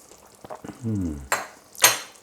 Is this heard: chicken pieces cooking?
yes